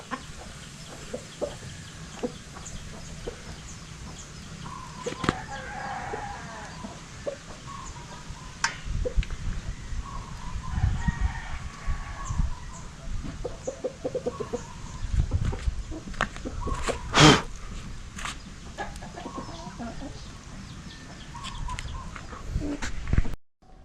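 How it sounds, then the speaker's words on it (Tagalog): A large dominant rooster and hens on a rural Philippine farm, with scattered clucks and calls over nearly half a minute, some sharp close sounds and a louder burst near the end, under a constant outdoor background. "napakadominante ng malaking lalaking manok"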